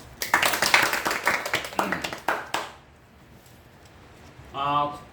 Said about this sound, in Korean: 오늘 새로 오신 분 환영의 박수 하겠습니다